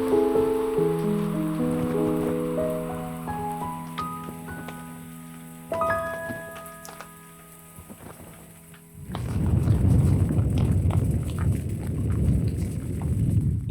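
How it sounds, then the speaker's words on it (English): Heavy overnight rain and strong wind lash a tent during wild camping, starting abruptly after a stretch of soft tonal music and then roaring loud and constant to the end. "Overnight it rained hard and the wind really picked up"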